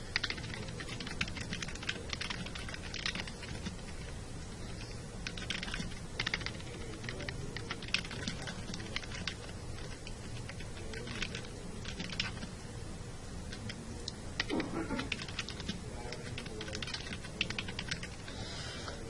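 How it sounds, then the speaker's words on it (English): Steady computer keyboard typing runs throughout, rapid and continuous close keystrokes with small pauses, no talking over it. "And there you see I've typed a quick little description to sort of give you an example."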